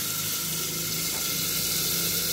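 Chopped onion sizzles in about two spoons of hot oil in a frying pan, a dense, even hiss held at a constant loud level throughout, close and without talk.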